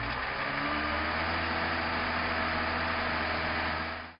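A car engine runs steadily at slightly raised RPM while its cooling system is bled after a thermostat replacement with an upgraded housing, giving a constant close, low hum under broad hiss that cuts off at the end.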